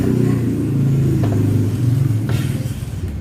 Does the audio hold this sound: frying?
no